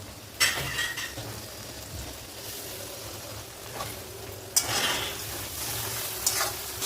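Onion frying in a pan with a ground paste of ginger, cumin, chili and coriander, a continuous sizzle with bursts of stirring and metal scrapes, one sharp clack partway through.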